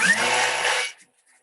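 A kitchen machine milling ingredients for custard tarts roars in a loud, steady high-speed whir that winds down and stops after about a second.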